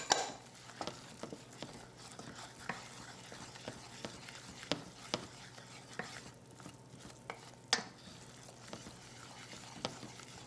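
A spoon stirs butter, onions, salt and pepper in a pot while making a roux for chicken pot pie, giving soft scraping strokes and scattered sharp clinks against the pot over a low background, with no talking.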